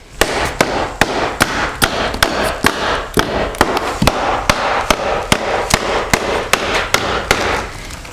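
A porch screen cap being tapped into place with rapid, sharp hammer strikes, loud and close, coming at a fairly steady rhythm of about two to three blows per second throughout, with no talking.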